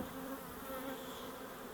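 Honey bees buzz at a hive in a dense, continuous drone, many insects together, steady and moderately close, with no voices.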